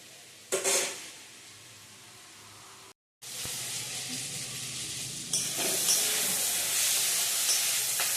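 Tomato and chicken sizzle in a pan for chilli chicken, a soft hiss rising into loud continuous frying after the ingredients hit the hot oil, with a short silent gap and occasional stirring.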